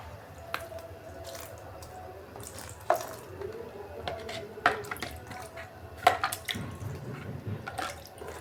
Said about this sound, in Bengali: এই গাছে জল দিয়ে দিচ্ছি।